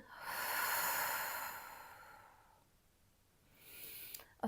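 During a Pilates deep-abdominal exercise, a close, forceful breath is pushed out for about two seconds and fades away. A shorter, softer breath follows.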